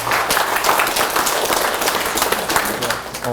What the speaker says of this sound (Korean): 김동엽 교수님께 박수 한번 부탁드립니다.